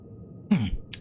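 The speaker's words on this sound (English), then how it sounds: "Had to cough again." A single short cough, close and sharp, with a throaty rasp, in an otherwise quiet room during a space survival game session.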